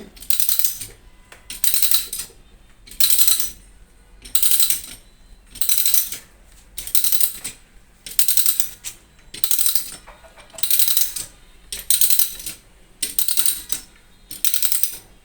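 A hand ratchet pipe threader cutting threads on a plumbing pipe, giving a regular series of about a dozen bursts of sharp metallic clicking, each lasting under a second with short pauses between.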